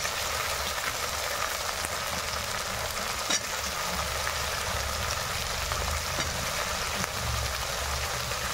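Bitter gourd and tomato frying in a pan as a vegetable dish is cooked, giving a steady, continuous sizzle with faint stirring scrapes throughout and no voices.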